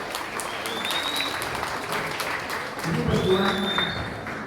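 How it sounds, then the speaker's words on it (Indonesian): Steady applause from a crowd, continuous clapping that swells slightly toward the end, with faint voices mixed in. "Tepuk tangan."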